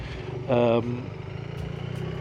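A BMW R1300GS motorcycle engine with an aftermarket exhaust idles with a steady low, pulsing throb; a short burst of voice-like sound rises briefly above it near the start.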